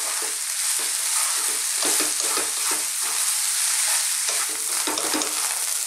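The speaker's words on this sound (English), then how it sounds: "So on this lively, lively heat, let's keep stirring this around for about 5 minutes." Zucchini fried rice sizzles steadily in a hot pan while being stirred, with a constant bright frying hiss and soft scraping stir strokes throughout, no voices.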